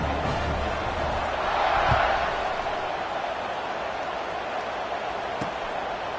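Home football crowd at a stadium roaring steadily as the kickoff approaches, a broad sustained wash of cheering that swells briefly and then holds, with no talk over it.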